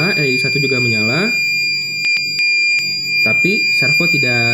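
An Arduino buzzer in a car smoke and CO detector project sounds a steady high-pitched electronic tone, continuous beneath someone talking close by, with a few brief sharper beeps in a pause between his words.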